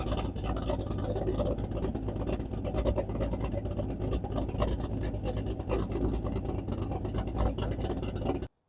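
Loud, steady rumble of a cammed Corvette LS7 V8 with reworked heads and a Borla catback exhaust with small mufflers, idling with a continuous lopey drone, close by and uninterrupted.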